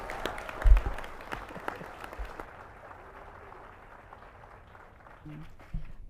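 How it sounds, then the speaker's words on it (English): Short burst of audience clapping at a school board of education meeting, moderately close and fading within a couple of seconds into a quiet room with faint murmurs and a few stray sounds. "How about another round of applause for them?"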